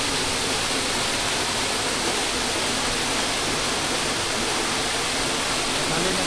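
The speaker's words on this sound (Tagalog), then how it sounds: "ito na yung una nating falls" A waterfall in Columbio, Sultan Kudarat, roars as a loud, continuous, dense rush of falling water that fills the scene without pause and covers every other sound.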